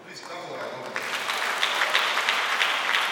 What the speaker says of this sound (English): Please clap for our government.